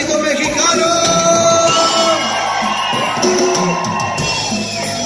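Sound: crowd shouting

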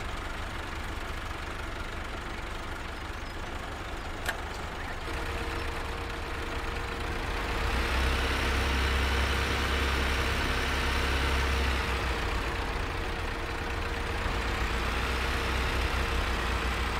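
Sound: truck engine starting and idling in the video game Farming Simulator 17

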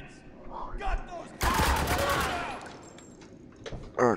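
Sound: gunfire in the video game Spec Ops: The Line

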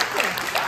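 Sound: applause

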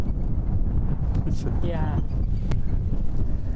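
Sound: wind on a lake

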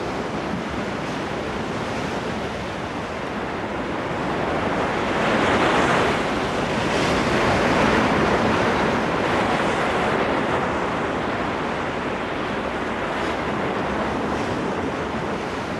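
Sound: ocean swell and waves driven by wind over the Pacific

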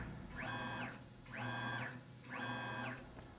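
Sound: machine moving along its axes

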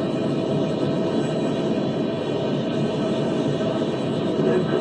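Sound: F/A-18 Super Hornet fighter jet flying

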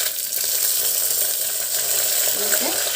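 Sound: mustard, cumin, fenugreek and coriander seeds sizzling in oil

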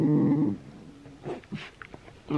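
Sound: sausage dogs (dachshunds) grumbling and whimpering

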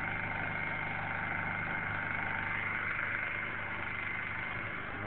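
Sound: generator running in a shed by a cabin

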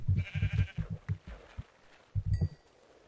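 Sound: sheep bleating in the video game Minecraft

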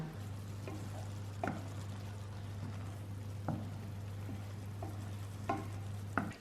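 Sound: frying onions and tomatoes

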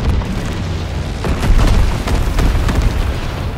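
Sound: incendiary bomber strike explosions in Call of Duty WWII video game

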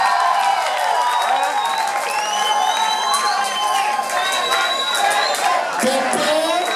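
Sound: club audience applauding and cheering

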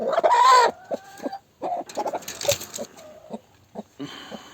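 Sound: hen clucking

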